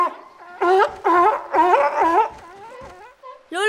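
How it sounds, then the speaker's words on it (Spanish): A cartoon sea lion pup calls for its mother, giving a series of loud, close, wavering barking cries in quick bursts, with a final rising call at the end. "El lobo marino debe estar llamando a su madre, Leo."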